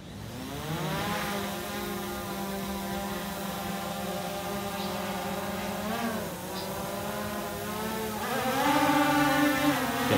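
A DJI Mavic 2 drone carrying 950 grams whines at maximum motor speed, a steady high buzzing drone with harmonic pitch bends as it hovers nearby, growing louder toward the end.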